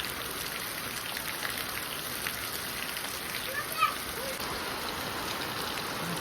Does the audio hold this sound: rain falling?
yes